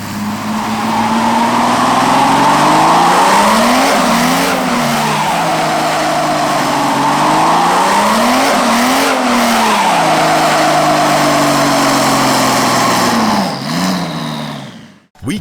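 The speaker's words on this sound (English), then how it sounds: "We didn't want to put a 6-cylinder in it, we put a 12-cylinder in it." A twin-turbo V12 engine in a Toyota Hilux roars loudly and up close. Tires squeal and skid throughout, and the engine pitch rises and falls in sweeping waves as the truck slides.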